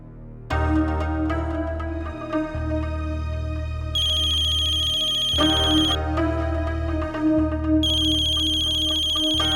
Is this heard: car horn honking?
no